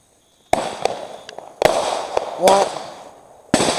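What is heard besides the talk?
fireworks exploding near a house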